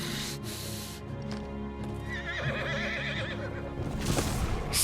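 A horse in the video game Final Fantasy 16 gives a loud, close whinny with a quavering pitch. Hoof clip-clops and a low musical backdrop run beneath it.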